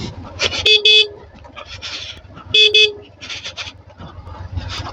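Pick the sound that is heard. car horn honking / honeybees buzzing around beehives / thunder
car horn honking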